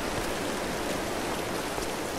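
Steady rushing waterfall in the Tomb Raider video game, a continuous broadband wash of falling water at even loudness throughout, with no talk over it.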